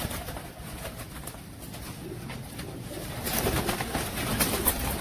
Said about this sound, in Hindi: दोस्तों ये सब के सब देखो मोमी मोरो के कबूतर हैं